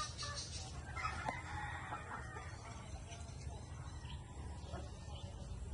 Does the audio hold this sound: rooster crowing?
yes